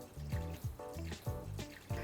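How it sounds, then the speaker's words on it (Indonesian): Water poured into martabak pandan batter in a bowl, a soft, faint trickle with gentle rhythmic gurgles and bubbly pulses repeating about every half second, close by. "Kita masukkan 3/4 dulu jumlah airnya."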